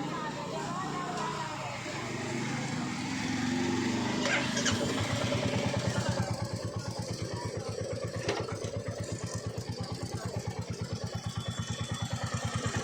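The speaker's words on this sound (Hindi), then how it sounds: "गाड़ी चालू करके आइडियली छोड़ देना कुछ मिनट के लिए विदाउट रेस।" A Royal Enfield Bullet motorcycle, which has a chain sprocket noise problem, is started and then left idling. The loud engine settles into a steady, rapid thumping idle, close to the microphone, and no voices are heard over it.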